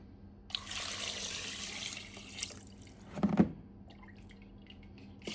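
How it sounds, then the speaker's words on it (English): Meat broth is poured into a tomatillo and tomato sauce, a steady liquid splash for a couple of seconds followed by a louder slosh, then quiet bubbling. "Now we are going to add some of our broth from where we cook our meat."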